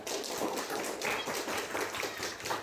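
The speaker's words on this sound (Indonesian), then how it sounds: "Tepuk tangan untuk si Paro" A class of students clapping together for a classmate, a dense continuous patter of many hands filling the room for a couple of seconds, close and fairly loud.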